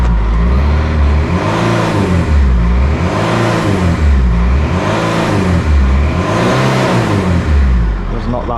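A repaired car engine revs up and down in a repeating cycle, loud and close, its pitch rising and falling about five times while a voice talks over it.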